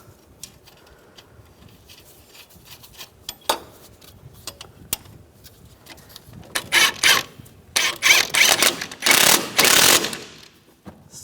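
A nut is run down onto the front strut of a 2007-2013 Mini Cooper: quiet scattered clicks at first, then a loud series of rapid ratcheting bursts near the end, up close with no talking.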